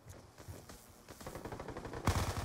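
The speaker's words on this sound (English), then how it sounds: "I'm using an MP7 with the reflex sight." Rapid automatic MP7 fire with a reflex sight in Black Ops 2, a steady stream of quiet, evenly spaced shots that swells into a louder burst near the end.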